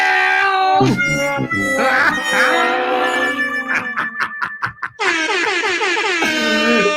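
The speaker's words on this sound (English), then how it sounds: "First time we'll hear the fail sound and the air horn at the same time" An air horn and a comedic fail sound effect play together during a live chill-along of the Brentford versus Arsenal Premier League match: a blaring horn blast, sliding descending tones and stuttering bursts, then a long loud final horn blare, all without talk.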